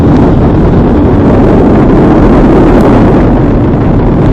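A thunderous, continuous roar of four RS-25 core-stage engines and two solid rocket boosters at full thrust during an Artemis launch, loud and unbroken, with a crackling, wind-like rumble throughout.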